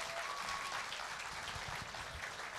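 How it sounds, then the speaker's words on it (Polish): Applause from an audience at a Polish highland zbójnicki dance competition, steady dense clapping throughout, fairly distant and soft. "wielkie brawa dla wszystkich naszych sponsorów"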